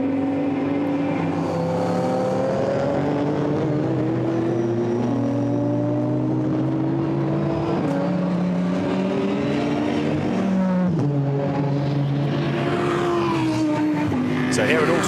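A Lamborghini GT race car, number 33, running through Dentons at Oulton Park during a British GT 2017 race, its engine roaring steadily with rising and falling pitch through gear changes, under continuous commentary.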